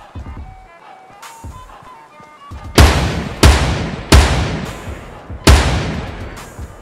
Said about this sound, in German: Schüsse, sehr viele.